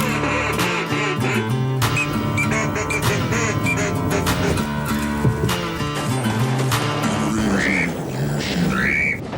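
A duck call sounds a long, loud, continuous run of rapid nasal quacks imitating a duck, sustained for about nine seconds with dense, buzzy tone.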